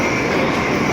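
A Stockholm metro train gives a dense, continuous rumble of wheels and carriage noise, loud and close throughout one unbroken second.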